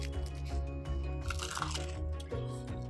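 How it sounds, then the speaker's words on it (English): Close, crisp crunching from chewing crispy air-fried chicken, with several bites and squishy mouth sounds over a steady low background hum. "See if you can hear this crunch."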